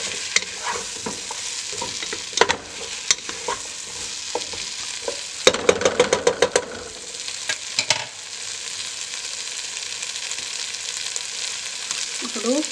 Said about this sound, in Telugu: బాగా మిక్స్ చేసుకోండి.